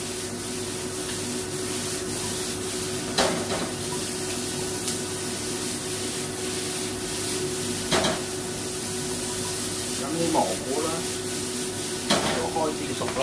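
Onions sizzle steadily while being stir-fried in a pan, with a continuous hiss broken now and then by scrapes and clatters of stirring. No talk.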